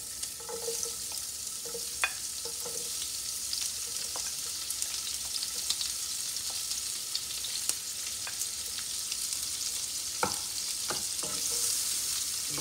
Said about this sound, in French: je rajoute l'oignon et l'ail